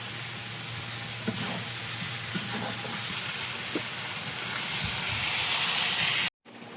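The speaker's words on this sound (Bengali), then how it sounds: "কষা মাংস তোলা হয়ে গেছে, এবার জল দিয়ে দেবো।" Water poured into a hot pan of cooked meat gives a loud, steady hissing sizzle that builds slightly and then cuts off abruptly near the end.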